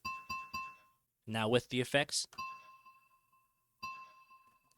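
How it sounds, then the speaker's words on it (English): Short metallic rings from a struck mug with bright steady overtones, several quick strikes, then a voice speaks briefly, followed by lingering tonal rings and one more strike fading out. "I used this mug ringing one shot."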